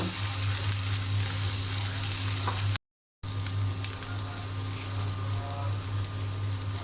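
Chopped garlic and onion frying in hot oil in a pan, a steady close sizzle that runs throughout, broken only by a brief gap of silence, with no talking.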